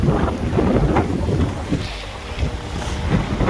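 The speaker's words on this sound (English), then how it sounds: "It's quite windy." Steady wind buffets the microphone in a continuous low rumble, with gusts swelling and easing and a faint wash of water in the background.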